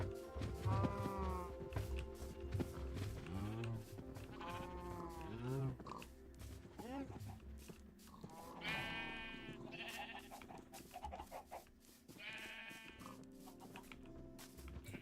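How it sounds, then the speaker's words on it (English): Blocky Minecraft sheep bleat several times in a row, mid-loud wavering cries spaced across the stretch, with a faint low background hum and no talking. "I've just seen a purple sheep following me."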